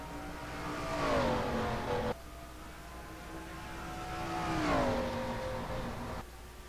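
Stock cars in a NNSCRA Castrol GTX Cup Series racing video game roar away at the start of the AC Delco 400, engine notes climbing and shifting twice as the field accelerates, loud and close with no talk.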